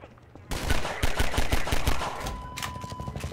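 Pistol fire in Half-Life 2: a quick run of about six sharp, loud shots, close and fairly evenly spaced, followed by a steady electronic tone and a rumbling background.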